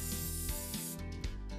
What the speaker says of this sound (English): Give it a good spray here.